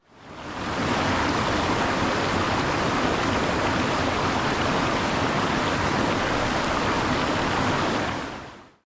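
A river in the Scottish hills, near Beinn Alder, rushes in a steady, dense broadband roar that fades in and out, loud and close, with no voices.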